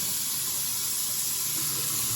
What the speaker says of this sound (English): I'm gonna wet the brush with some warm water.